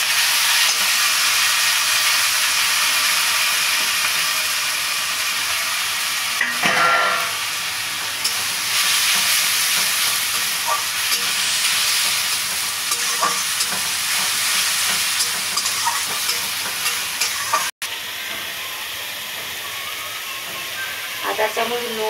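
Tomatoes go into a pan of onion, ginger and garlic already frying until reddish, giving a loud steady sizzle and hiss with brief stirring scrapes throughout.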